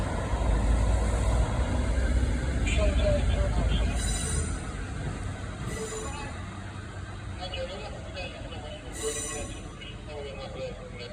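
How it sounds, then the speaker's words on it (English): ScotRail class 196 diesel multiple unit 196513 pulling out of Carlisle station, a steady loud engine rumble and rolling noise throughout with squeals and brief high tones, people talking over it. "departing now, it's the 1109 ScotsRail service to Dumfries"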